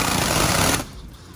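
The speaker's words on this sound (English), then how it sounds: "we're pre-drilling this one here" A power drill pre-drilling a bronze pergola roof sheet buzzes loudly and steadily up close, then cuts off abruptly, leaving faint room noise.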